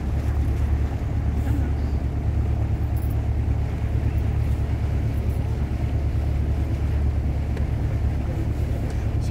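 Tour boat cruising on the Laïta river estuary between Clohars-Carnoët and Guidel, its engine a steady low drone with constant wind rumble throughout, no voices rising above it.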